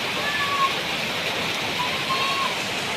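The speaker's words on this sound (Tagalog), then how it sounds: "Malaki na naman yung ilog namin dito sa Kamaya, Marabeles, Bataan." A swollen river in Kamaya, Mariveles, Bataan rushes after typhoon rain in a steady, full roar of water, with faint thin whistles drifting over it.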